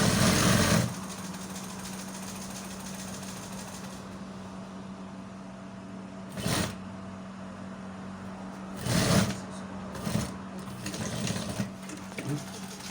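A sewing machine runs while stitching a bomber jacket sleeve, with a loud burst at the start, then a steady close mechanical hum and a few brief surges as a person talks over it.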